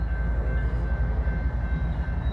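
A southbound BNSF freight drag led by Union Pacific locomotive 8134 rolls by on the St. Joe subdivision near Hobson Yard in Lincoln, Nebraska. It makes a loud, close, continuous low rumble with a faint steady tonal hum, and no one speaks.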